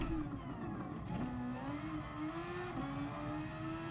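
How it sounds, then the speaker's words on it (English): A Toyota-engined race car in the Gran Turismo racing game revs hard and steadily, its loud engine note climbing in pitch and then dropping back at each gear change, with no talk. "he says that the Toyota has the sweeter engine note"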